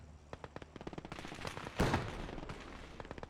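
Machine gun fire in the World War II strategy game Gates of Hell, a run of rapid sharp bursts punctuated by a louder heavy blast in the middle, dense and close with no talking.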